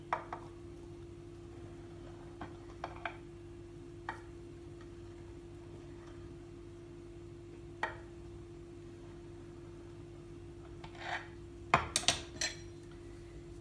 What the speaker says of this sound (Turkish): Şöyle uzun uzun dörde kesiyorum ben.